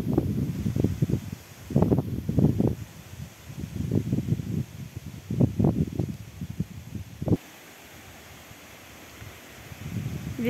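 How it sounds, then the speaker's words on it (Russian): Gusts of cold wind sweep through forest trees in repeated surges, a rushing rustle that rises and fades several times before dropping to a calmer hiss; no birdsong. "Лес шумит, птички не поют при таком ветре"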